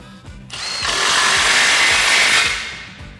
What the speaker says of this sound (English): go ahead and grab your 15 mil socket and go ahead and tighten it down